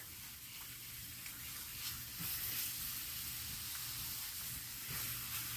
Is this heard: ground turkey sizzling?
yes